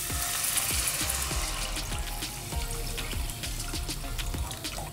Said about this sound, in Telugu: ఇందులో తగినన్ని వాటర్ పోసుకుందాం